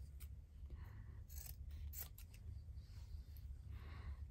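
Scissors snip and trim fabric in a few soft, quick cuts close by, over a quiet low background hum.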